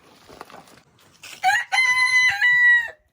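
A loud, close hen call rises out of quiet background chatter as she hollers at a gate, a drawn-out harsh squawk held for over a second before cutting off.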